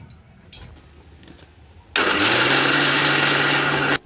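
A mixer grinder whirs on abruptly after a quiet stretch, blending dhokla batter with a spoon of peanut oil, running loud and steady with a strong motor hum for about two seconds before cutting off.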